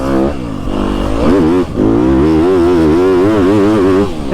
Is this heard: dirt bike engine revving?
yes